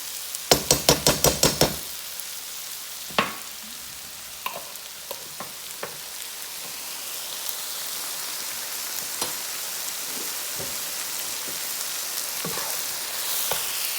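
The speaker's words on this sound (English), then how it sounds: "And we stir that pesto in there" Pesto is stirred into butter in a hot pan: a quick run of metallic clinks at the start, then a steady sizzle with scattered spoon taps and crackles, close and moderately loud, no voices.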